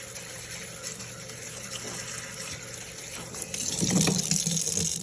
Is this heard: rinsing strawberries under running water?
yes